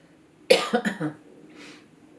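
A short burst of coughing, three or four harsh coughs in quick succession close to the microphone, followed by quiet breathing.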